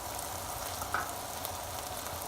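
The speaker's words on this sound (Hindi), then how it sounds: "अब हम इसको थोड़ा सा भून लेते हैं या फ्राई कर लेते हैं" Macaroni and noodles with mixed vegetables and chicken fry in a pan, seasoned with black pepper, ajinomoto, Chinese salt, vinegar and soy sauce, making a steady, even sizzle with one brief clink partway through.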